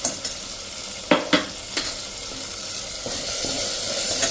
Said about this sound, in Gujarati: ગેસની ફ્લેમ સ્લો કરીને એને આપણે મિક્સ કરી લેશું